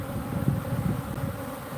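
Agitated honeybees buzzing after their small hive in an underground water meter box was disturbed, a steady dense drone that stays even and fairly close throughout with no talk.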